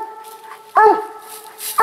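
A coon hunting dog in West Virginia bays out on a hunt, giving two sharp, loud barks with drawn-out tonal howls in between, heard close with nothing else over it.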